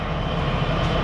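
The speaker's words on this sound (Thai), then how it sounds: "ก็เครื่องยนต์ก็6สูบเนาะบวกเทอร์โบนะครับ" Six-cylinder turbocharged common-rail truck engine roaring under load, a brief dense low rumble with a steady, heavy drone and no voices.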